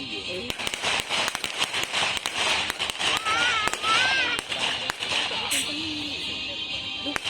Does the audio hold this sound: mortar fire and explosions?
yes